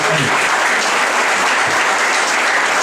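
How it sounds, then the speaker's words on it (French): Wedding guests applaud the couple just after the exchange of rings, a loud, dense and continuous burst of clapping from a crowd close by. "ils ont les alliances, vous pouvez les applaudir"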